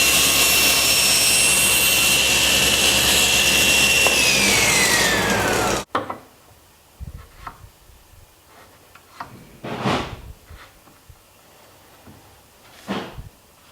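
A SawStop table saw cuts a 45-degree miter through a board, its loud steady whine running for several seconds before stopping abruptly. Scattered wooden knocks and handling noises follow, nearby and intermittent.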